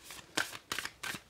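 Oracle cards from a deck being drawn and shuffled, three quick papery swishes in a steady rhythm, close and fairly soft, with no talking.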